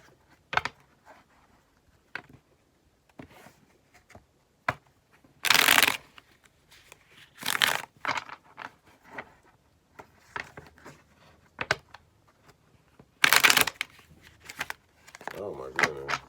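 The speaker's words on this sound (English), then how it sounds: "let's finish shuffling your cards." Tarot cards being shuffled in quick riffling bursts, with several loud shuffles standing out amid lighter card handling and taps; close and fairly quiet overall.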